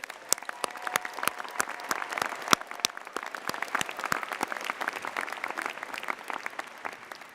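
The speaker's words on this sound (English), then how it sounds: "So let's thank them with a huge round of applause." A university commencement crowd applauds to thank parents and families, with a wide, somewhat distant wash of clapping and sharp individual claps standing out across the whole stretch.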